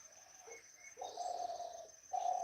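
A wild spotted dove coos at dawn in a few soft, repeated phrases close by, with a faint high background of other birdsong and no talking.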